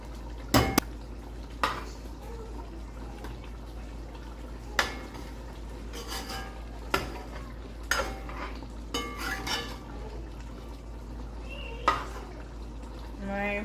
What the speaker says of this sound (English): So I'm just gonna take my spoon and probably break off piece here.